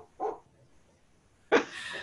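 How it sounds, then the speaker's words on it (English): Two short dog barks from a recording, a soft bark followed by a louder, sharper one with a brief tail, heard alone and fairly near. "Recorded dog barks. It's a dog."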